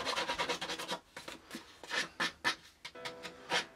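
Rough, rasping scrapes across a paper photo during scrapbooking, in quick repeated strokes. They come close and fairly soft, then settle into slower, separate scratches after a brief pause.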